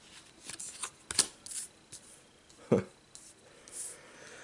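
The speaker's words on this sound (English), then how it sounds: "I'm going to have to shuffle my deck" Cards from a Marvel Champions deck being shuffled at a tabletop, a few short papery riffle bursts and rustles, one sharper snap near the start and a heavier thump partway through, close and fairly quiet.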